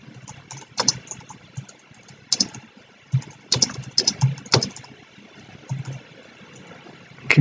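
Someone typing on a computer keyboard, with irregular bursts of sharp, close key clicks separated by short quiet pauses and a faint background hiss.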